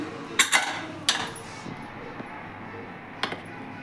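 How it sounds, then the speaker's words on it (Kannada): A pressure cooker is opened after cooking tomato bath, giving a few sharp metallic clinks and clanks of the lid and utensils, close and fairly quiet, with short pauses between them. "ಕುಕ್ಕರ್ ಓಪನ್ ಮಾಡ್ತಾ ಇದ್ದೀನಿ"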